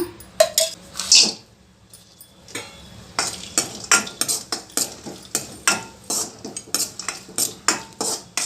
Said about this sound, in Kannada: ಈಗ ಡ್ರೈ ಫ್ರೂಟ್ಸು ರೋಸ್ಟ್ ಮಾಡ್ಕೊಳ್ಳೋಣ